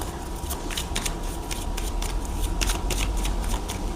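Tarot cards being shuffled make a close, steady stream of crisp riffling and flicking sounds with no talking.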